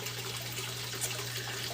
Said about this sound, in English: I have a 500-gallon koi pond here in the greenhouse with about a dozen koi in it with a waterfall